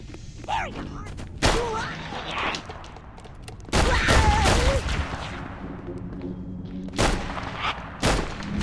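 Revolver shots in the Halo CE XAM mod: several loud, sharp reports spaced a second or two apart, one heavier burst in the middle, with a faint voice underneath at times.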